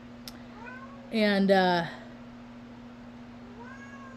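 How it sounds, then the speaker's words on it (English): A cat meows once loudly and close, a short drawn-out call, with a voice speaking briefly and a steady hum in the background. "There's a cat biting on my toe right now."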